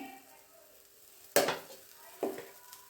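Moong dal and paneer tikki cook in a pan with little oil, a quiet sizzle broken by two sharp clattering bursts, the first louder, as something is placed and stirred in the pan.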